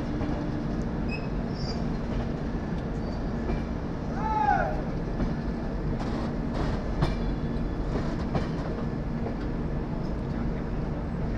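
A passenger train runs on rails as it enters Asansol, giving a steady loud rolling rumble throughout with brief high wheel squeals and faint clicks, the noise continuous from start to finish.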